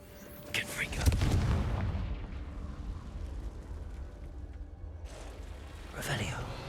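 A Confringo blasting spell in a Hogwarts video game goes off as a deep booming explosion with a rumbling tail, followed by quieter game ambience and another soft burst, with a voice calling out over it.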